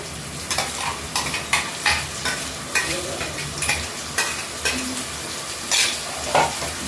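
Spicy chicken gravy with tomato paste stirred in a pan, a constant bubbling sizzle under rhythmic scraping strokes of the spoon about twice a second, close and with no one talking.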